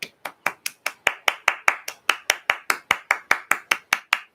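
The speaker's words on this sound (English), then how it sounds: "Golf clap." A room full of people gives a polite golf clap, about twenty crisp, evenly spaced claps at a steady moderate pace, fairly close and alone without talk.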